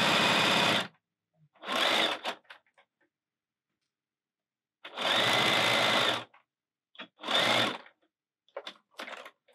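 Domestic sewing machine stitching mesh fabric for a bag casing at high speed, loud close whirring in four short bursts separated by silence, with a few faint clicks after each burst.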